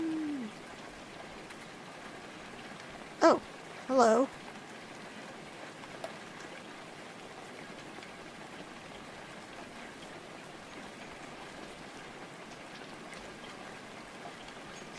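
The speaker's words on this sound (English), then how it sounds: "I like how we're just standing out in the rain." In the Rainswept game, a steady, soft hiss of rain falls continuously on the surroundings. A voice briefly speaks over it near the start.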